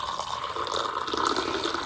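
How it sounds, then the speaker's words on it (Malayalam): Strong cardamom tea poured into a glass, a short continuous splashing stream of liquid filling the glass up close, with no voices. "നമുക്കിത് ഗ്ലാസ്സിലേക്ക് ഒഴിക്കാം കേട്ടോ."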